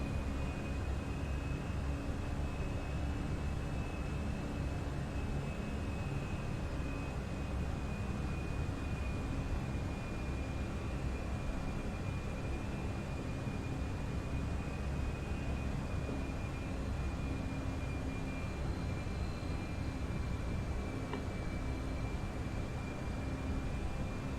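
An easyJet Airbus A320 levelling off in flight, heard as a steady, unbroken cabin roar of engine and airflow noise with a faint constant tone, even and continuous throughout with no talk.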